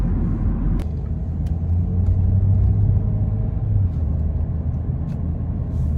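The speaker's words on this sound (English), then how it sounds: "I'm just kind of driving around, and if one pops out at me, grabs my attention, I'm pulling over." Steady engine rumble and road noise from a car cruising along Highway 192, loud and continuous, with no voices.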